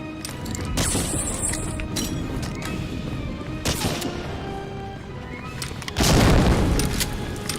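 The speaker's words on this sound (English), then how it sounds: "don't stand where the grenade is and just stand there like a noob" A grenade blast in the World War II shooter Medal of Honor: Frontline: scattered gunfire and thuds lead up to a sudden loud, broad explosion near the end that lingers briefly, with no voices.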